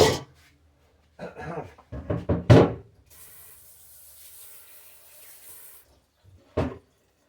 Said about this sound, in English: Let me rinse this off.